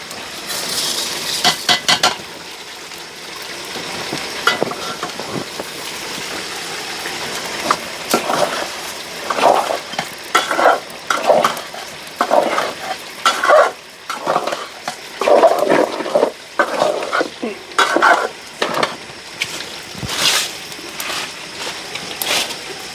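Broiler chicken curry is stir-fried in a pan, with repeated rhythmic scraping strokes of a spatula and faint sizzling, growing busier midway through.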